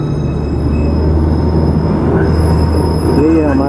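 Darjeeling toy train rolling past nearby, a steady loud rumble of wheels on rail with a faint squeal rising near the end and no talk over it.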